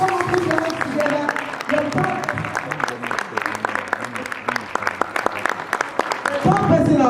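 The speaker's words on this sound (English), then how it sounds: "Please put your hands together for this woman of God." Audience applause at a women's seminar, scattered claps spread over several seconds under a voice speaking over a microphone, swelling again at the end.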